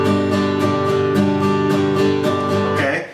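An acoustic guitar strummed in steady rhythm, striking the strings on both down and up strokes, bright ringing chords close up with evenly spaced attacks that fade at the end.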